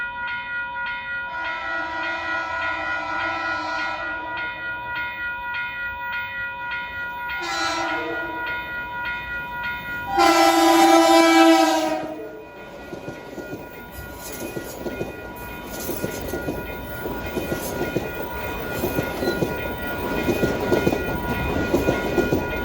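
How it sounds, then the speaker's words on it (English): Southeastbound Metro North train at the Cleveland Street crossing in Valhalla, with crossing bells chiming steadily, a loud horn blast sounding, then the train rumbling and clattering past close by. "We got a southeastbound train coming."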